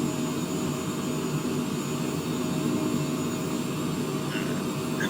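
Steady, loud aircraft engine drone inside a small plane in flight, a continuous broadband roar with a constant tonal hum and no talking.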